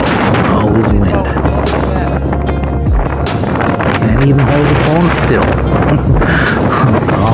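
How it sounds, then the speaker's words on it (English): Strong wind on a flat, glacier-carved mountain top buffets the microphone in loud, rumbling gusts while someone talks over it. "Always windy here, even when it's very calm out. Everywhere's else, always wind."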